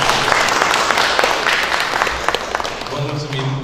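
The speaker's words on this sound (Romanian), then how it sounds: "Un rând de aplauze." Applause from guests at a golden wedding anniversary celebration in Ocna, dense steady clapping throughout with voices faintly mixed in.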